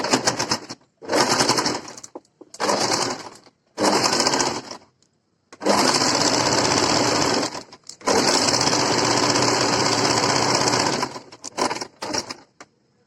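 A sewing machine stitches sleeves onto an A-line kurti in loud, close bursts of rapid whirring, several short runs stopping and starting before two long continuous stretches, with brief silent pauses between.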